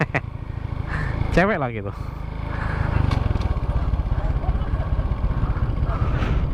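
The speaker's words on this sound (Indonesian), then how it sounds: "Ini ada anak belajar motor di lapangan" A kid learning to ride a motorcycle on an open field keeps the engine at a steady, close, pulsing putter, while people talk over it early on.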